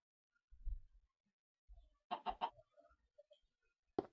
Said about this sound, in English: Poor chicken's still stuck on the ledge there.